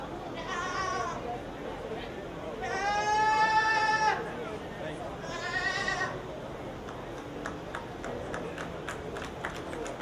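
Three drawn-out meat goat bleats ring out at a 4-H/FFA goat show, the middle one longest and loudest, over a steady background bustle with scattered light clicks.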